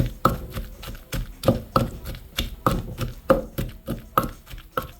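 A pestle pounds mackerel chili paste in a mortar in a home kitchen in England, with steady repeated thuds about twice a second, close and moderately loud, with no talk.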